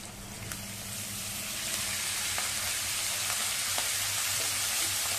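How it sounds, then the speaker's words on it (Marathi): Chopped fenugreek leaves (methi) sautéing in oil in a pan, a continuous close hiss and crackle of frying with faint stirring clicks throughout, no voices. "चांगली आपण परतवून घेऊया"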